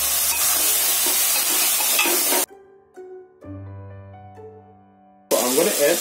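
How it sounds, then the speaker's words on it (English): Pork and tomato stir-fry with fermented soybean crackles loudly in a pan for a couple of seconds, drops out to a quiet tonal passage, then returns with steady sizzling and stirring scrapes at the end. "I'm going to add the tomato now. Again, give a good stir."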